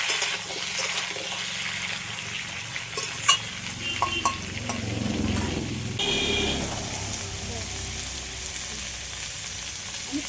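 Pumpkin pieces and slit green chillies frying in a pan for a crab and fish recipe, a strong continuous sizzle with scraping and clinks of a utensil, swelling as the pumpkin goes in.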